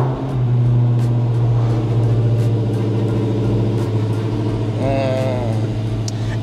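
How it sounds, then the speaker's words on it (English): A Dodge Hellcat sits idling in neutral, its engine a loud, steady low rumble that holds throughout at close range, with a voice briefly heard partway through. "I'm stuck between like trying to like let her idle for a bit and knowing that I can't let her idle for too long"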